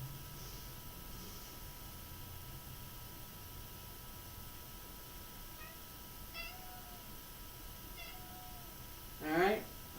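A cat meows a few times during an indoor Wudang martial arts practice session, with short faint calls in the middle and a louder, longer meow near the end over steady room hiss.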